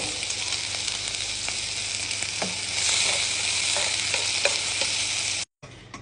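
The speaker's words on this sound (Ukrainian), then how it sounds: "Домашня ковбасочка ся поджарює. Цибульку додаємо." Homemade sausage and onion fry in a pan with a loud, steady sizzle and occasional stirring clatter, the hiss swelling midway before cutting off abruptly near the end.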